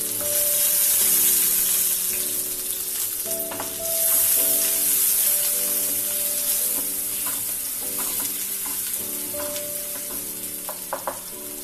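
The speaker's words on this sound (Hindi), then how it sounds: "सबसे पहले हम इसमें प्याज जो चॉप्ड किया हुआ है वो डालेंगे" Chopped onion sizzles in hot refined oil in a pan, a steady close frying hiss with occasional stirring scrapes and clinks, no voices.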